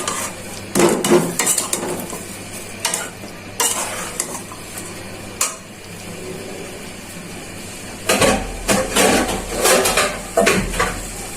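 Potatoes being stirred and fried in a pot for a bitter greens curry, with repeated scraping clatters of a spoon against metal in bursts over a steady low sizzle, close and fairly loud.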